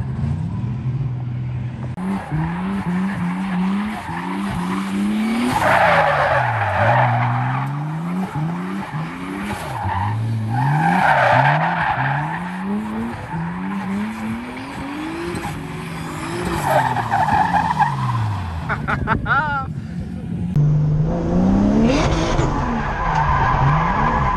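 Car drifting on a circuit, engine revving up and down in repeated sweeps with bursts of loud tire squeal, close and continuous, no talking.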